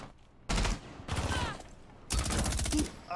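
Bursts of rapid automatic gunfire in Rainbow Six Siege, three loud volleys of several shots each separated by short pauses, up close and dominating the mix.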